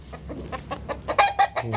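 Chickens clucking close by in a quick run of short, sharp calls that grow louder and more crowded toward the end.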